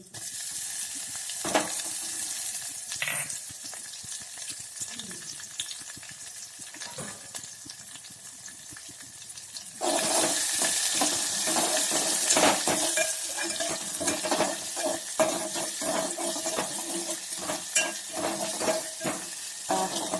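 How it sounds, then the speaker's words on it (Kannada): A green chili and garlic paste goes into hot tempering oil for a mango neer gojju. A quieter sizzle with scattered clinks turns into a louder, denser crackle partway through, and nobody speaks. "ಹಸಿಮೆಣಸು ಬೆಳ್ಳುಳ್ಳಿ ಪೇಸ್ಟ್ ಮಾಡಿಟ್ಕಂಜಿ ಅದ್ರ ಹಾಕ್ಯತ್ತಾ ಇದ್ದಿ"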